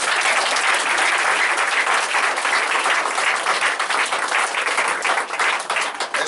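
A church congregation applauds, a dense, steady wash of many hands clapping together that holds loud and even throughout, with no voices standing out.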